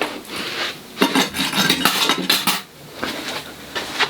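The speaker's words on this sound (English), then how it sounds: "All change for me goes in a money pot for savings." Loose coins are dropped and shuffled into a money pot, making a close run of bright metallic clinks and jingles that come in several clustered bursts with no talking.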